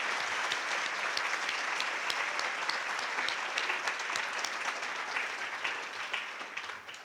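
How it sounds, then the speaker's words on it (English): A banquet audience applauds scholarship recipients, sustained dense clapping from a large crowd filling the room evenly for the whole stretch, fading slightly at the end. "Let's give them a giant round of applause one more time."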